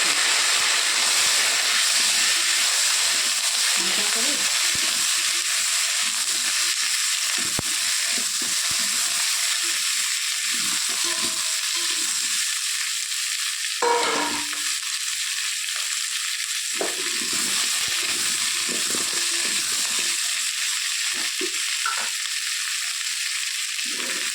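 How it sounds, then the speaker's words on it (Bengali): Cauliflower and potato frying in oil left over from frying fish, cooked over a clay wood-fired stove, giving a steady, loud broadband sizzle throughout with a few brief stirring clatters, and no voices. "মাছ ভাজা তেলে ফুলকপি আর আলুটা একটু ভেজে নেব"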